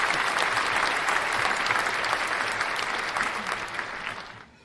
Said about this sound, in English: I definitely got to give y'all a round of applause too.